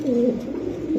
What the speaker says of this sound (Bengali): এই যে এক জোড়া কবুতর